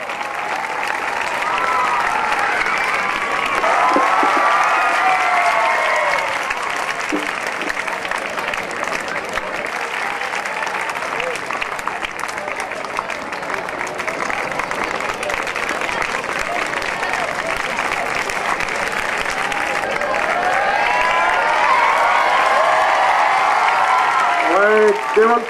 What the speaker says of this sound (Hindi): केवल तालियों से अभिनंदन करें।